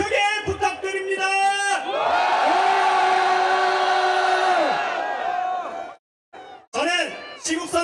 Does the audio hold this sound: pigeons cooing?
no